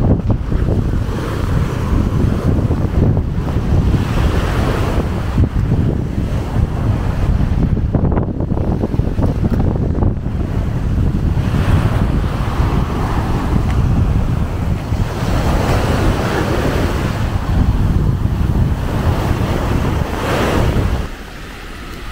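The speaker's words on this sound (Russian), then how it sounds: "это местный пляж" Strong wind buffets the microphone over steady breaking surf on a local beach at Rasdhoo island in the Maldives, a loud continuous roar with no voices.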